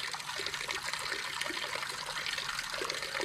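Water flows steadily through a powered-down, normally open heating zone valve, a continuous close hiss and trickle with no pauses or voices.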